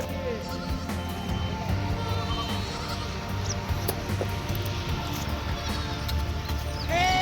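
Scattered bleats rise from a flock of native sheep in the distance on a goat farm, faint, wavering calls over a steady outdoor background.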